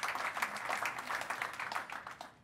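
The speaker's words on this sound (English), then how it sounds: "how about a round of applause for them" A summit audience at a government software event applauds steadily for the whole stretch, the dense clapping fairly faint and distant, with no one speaking over it.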